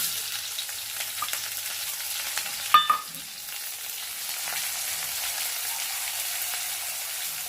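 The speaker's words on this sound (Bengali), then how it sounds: "পেঁয়াজটা একটু ভালো করে ভেজে নেবে।" Chopped onions and green chillies fry in oil with black cumin and panch phoron for a prawn malai curry, giving a steady soft sizzle with a short clatter of stirring partway through.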